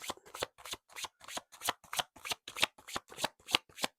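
Tarot cards are shuffled in a brisk, even rhythm of about a dozen crisp riffling bursts, close and clear, with brief gaps of silence between each one.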